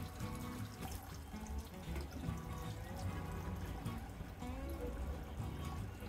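Water pours steadily into a cooking pot while mung bean pulao is made with rice and lentils, a continuous splashing stream running for several seconds at a fairly even level.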